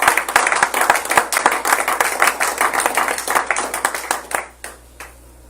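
A church congregation at a Sunday service claps and cheers in praise of the Lord, a dense, lively burst of many hands that fades out toward the end, leaving near silence.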